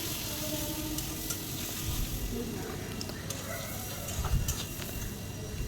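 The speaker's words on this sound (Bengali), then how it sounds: "টক দই দিয়েও আবার একটু কষাবো মশলাটাকে" Spice masala being stir-fried with whisked sour yogurt in a pan for a Bengali chicken bharta, giving a steady close sizzle with scraping stirs throughout and no talking.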